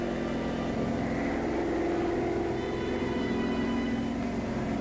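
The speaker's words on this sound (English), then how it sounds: "German reconnaissance plane." A German reconnaissance plane in flight during the invasion of the Netherlands, its engine drone steady and continuous throughout, a dense, fairly loud hum with no voices over it.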